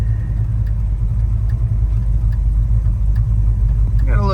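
A 1966 Chevrolet Chevelle SS 396 V8 runs with a steady, loud low rumble heard from inside the car, the engine note holding even throughout with no pauses.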